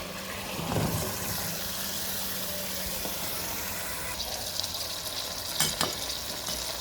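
Fish with eggplant, potato and tomato fries in a pan, a steady sizzle with a thump and occasional scraping as the pieces are stirred, no talking.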